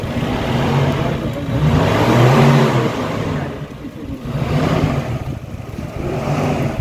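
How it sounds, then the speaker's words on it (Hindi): A Gypsy 4x4 engine revs while driving through heavy snowfall near Narkanda, its pitch rising and falling in a couple of surges with a muffled, close drone. "Gypsy ride 4x4 in heavy snowfall"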